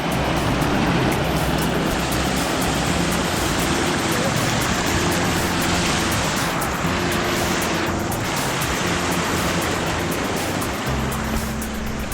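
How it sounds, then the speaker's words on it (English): Trail runner wading across a river on a coastal trail run, with loud, continuous rushing and churning flowing water filling the scene at close range, no talking. "First river crossing, so about 8 k's in."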